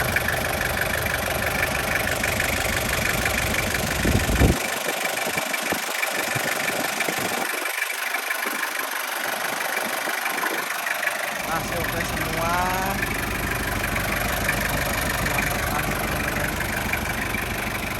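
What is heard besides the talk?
diesel engine idling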